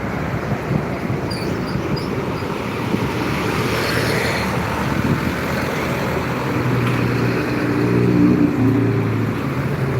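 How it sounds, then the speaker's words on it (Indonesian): A convoy of trucks rolls past on a road, making a steady broad rumble and hiss of traffic with engine drone that swells slightly toward the end, continuous and fairly close, with no talking. "Banyak rombongan-rombongan truk nah."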